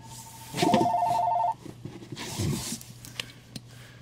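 A telephone rings once with a bright electronic two-tone trill lasting about a second, fairly close. A few faint rustles and handling noises follow, and nobody speaks.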